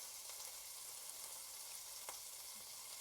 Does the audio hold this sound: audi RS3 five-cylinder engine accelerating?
no